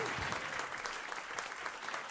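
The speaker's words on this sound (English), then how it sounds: "give them a round of applause" A conference audience claps in a steady, dense wash of applause, moderately loud and continuous throughout.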